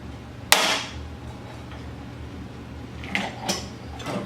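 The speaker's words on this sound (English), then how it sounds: "And pull the rod back through the rivet." A sharp metallic snap rings out as a rivet gun pulls the mandrel through a pop rivet in a survival-kit build, followed by a few smaller clicks and clacks from the tool a few seconds later.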